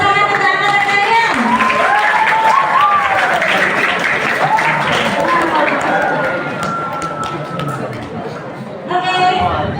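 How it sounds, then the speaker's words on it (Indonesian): A crowd claps steadily in dense, sustained applause with cheering and chatter mixed in at an alumni gathering, easing off slightly near the end before a voice speaks. "Tepuk tangan untuk angkatan kalian."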